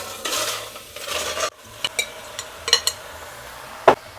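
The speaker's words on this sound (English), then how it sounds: "I'm going to be using this deep saucepan. I'm going to add all my peaches in here." Peaches tumble into a deep saucepan, a soft rustling slide followed by scattered clinks and knocks of fruit and utensil against the pan, close and fairly quiet.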